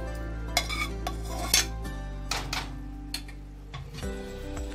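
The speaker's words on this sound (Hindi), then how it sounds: "के चावल डाल देते हैं, तो चाशनी में अच्छे से मिक्स हो जाए" Utensil stirring rice into sugar syrup in a pan, made for a Navratri fasting thali: close, irregular clinks and scrapes of a spoon against metal, with steady low background hum.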